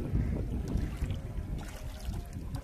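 A boat passing on harbour water near the mangrove marshes of Ariyankuppam, Puducherry: a steady low rumble of engine and churning water with wind buffeting the microphone, fairly close and continuous.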